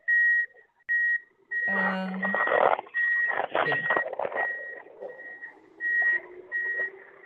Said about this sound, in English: We've got somebody's beeping in the background, so maybe go ahead and mute that.